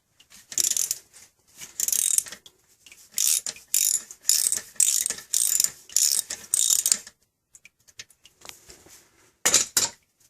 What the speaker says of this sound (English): Gonna take a 7/16 socket and pull that plug and drain the converter.